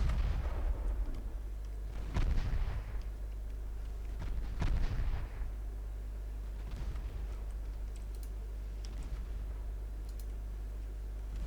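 Naval guns firing in Ultimate Admiral Dreadnoughts, a few heavy booming salvos early on, each with a rolling tail, then a quieter stretch with faint distant thuds over a constant low drone.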